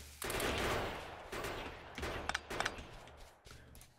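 Automated gun turrets in Factorio open fire on enemies in a desert deathworld, rattling out bursts of rapid gunfire that start and stop across a few seconds, with sharp individual cracks between the sustained volleys.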